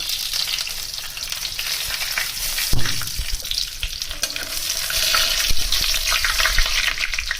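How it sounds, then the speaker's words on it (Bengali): Bay leaf, cinnamon, cardamom and cumin tempering in hot oil in a kadai, a loud close crackling sizzle with stirring clatter, a sharp knock near the three-second mark, and no voices. "তেল গরম হয়ে গেছে, তেজপাতা, দারচিনি, এলাচ, জিরে ফোড়ন দিয়ে দিলাম।"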